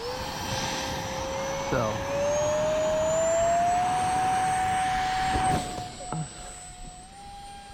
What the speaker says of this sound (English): 55 millimeter fan or EDF unit in there. I think it's a 12 bladed fan